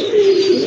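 Female pigeons, a pair of laying hens sold at a market, coo in a single low, steady, fairly loud call with no talking over it.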